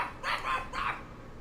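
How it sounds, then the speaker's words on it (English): A dog in Dragon Age II gives two or three short, close barks in quick succession. "Can you calm him down? Our dog's been going on?"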